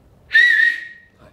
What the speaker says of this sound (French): je ne sais pas siffler comme ça là